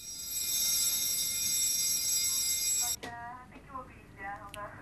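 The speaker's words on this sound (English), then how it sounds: "Unknown to the men, they triggered an alarm." An automatic intruder alarm rings at a football social club in Haverfordwest, a loud, steady high-pitched electronic tone lasting about three seconds before cutting off, followed by faint chirps and background noise.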